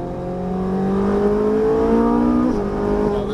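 A Ferrari 458 Italia V8 engine revs steadily upward while accelerating on a racetrack at Exotic Racing Las Vegas, a loud, continuous rising whine with a brief dip near the end, heard from close inside the car.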